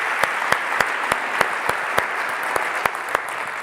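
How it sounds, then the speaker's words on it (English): Audience applause at a startup pitch competition gala, steady dense clapping filling the room with a few sharper individual claps punctuating it, no voices over it. "Have a big clap for them."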